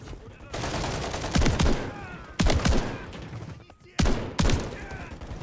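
Shotgun blasts from Call of Duty Modern Warfare 3, three loud, booming shots spaced about a second apart, each followed by a brief echoing tail over a steady background of gunfire and battle noise.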